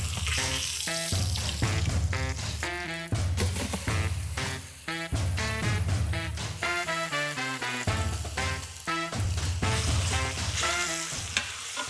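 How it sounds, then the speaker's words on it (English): Beef for Instant Pot birria tacos browning in a hot pan, a loud steady sizzle with bursts of clattering and scraping throughout, no voices. "It browns the meat and it adds an extra fond to the bottom of the pan,"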